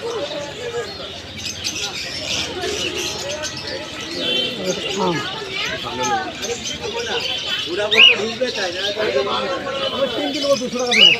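Pigeons for sale at a cheap open-air bird market in Bir Nagar coo and chirp softly beneath constant chatter and bargaining voices of the crowd.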